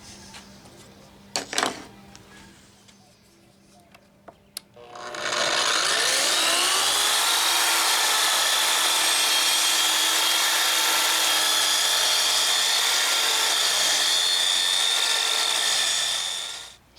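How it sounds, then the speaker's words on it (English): A track saw rips a long wooden board down the middle: a few faint knocks first, then the motor spins up into a loud, steady, close whine of blade cutting wood that holds for about eleven seconds before stopping. "So I ripped one of the long boards right down the middle in half"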